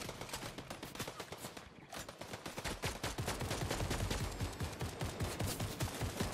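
Rapid gunfire from a non-player character in Fortnite, a dense run of sharp shots in quick succession, loud and close, continuing steadily throughout.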